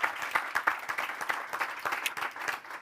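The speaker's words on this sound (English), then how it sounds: "So round of applause for." Audience at a climate technology business event applauds an organizer: a steady patter of many hands clapping, fairly close and moderately loud, with no talk over it for nearly three seconds.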